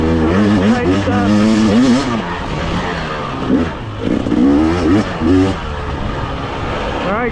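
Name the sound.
2024 GasGas EC250 enduro motorcycle engine riding a lap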